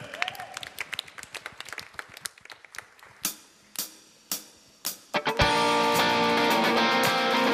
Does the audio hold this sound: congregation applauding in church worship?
yes